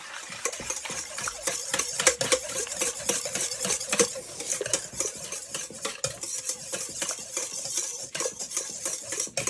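Vegetable oil being whisked into an egg yolk mixture for a raspberry peach yogurt mousse cake: a rapid, continuous run of close metallic clicks and scrapes against a bowl, steady throughout with no talking.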